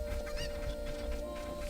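A chicken clucks and squawks in agitation as it is attacked in Zelda Ocarina of Time, with a few sharp cries over a steady background tone and game music.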